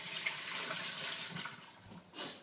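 A kitchen tap runs in a steady, close rush of water, then shuts off near the end, leaving a brief splash and trickle. No one speaks.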